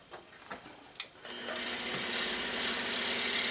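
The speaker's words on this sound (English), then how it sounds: "So now we're going to go over to the scroll saw, and I'm going to cut out the patterns for these legs." A scroll saw cutting out chair leg patterns from wood for a folding stool, starting with a few separate knocks, then settling into a steady, fairly loud buzzing cut that carries on continuously to the end.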